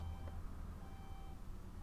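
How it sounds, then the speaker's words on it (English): Council rubbish lorry reversing in a lay-by, a faint, distant series of short electronic beeps over a low steady engine rumble, with no talking. "That's a council lorry."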